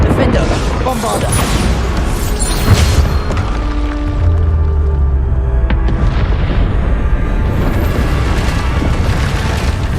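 Spell blasts and explosions from Hogwarts Legacy combat, including Bombarda, boom and crackle in a loud, dense barrage of bursts and rumbling impacts layered over continuous game noise.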